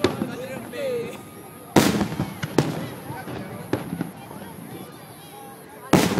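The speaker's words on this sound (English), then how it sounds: "Those are big fireworks." Loud firework blasts boom at irregular intervals at a July 4th show in New Orleans, four big bursts with crackling in between, while people talk in the background.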